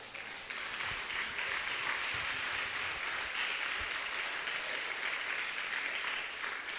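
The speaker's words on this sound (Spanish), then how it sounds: "De perdida, dele un aplauso al Señor." A church congregation applauds during a Spanish-language sermon, a dense, steady wash of many hands clapping that holds at an even level throughout with no voices over it.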